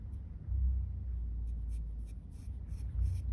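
Pencil strokes outlining an eye drawing, soft scratchy marks on paper in short repeated bursts over a low background rumble.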